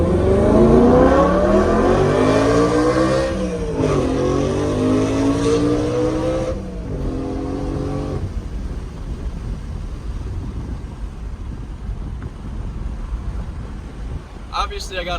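A BMW E92 M3 with a K&N cold air intake and a loud exhaust revs hard with its exhaust valves open, rising and falling in sweeps before settling to a steady rumble, close by.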